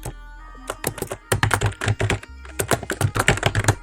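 A command typed on a computer keyboard at a Linux terminal: a quick run of crisp, close key clicks in uneven bursts, with a brief pause midway before the tapping resumes.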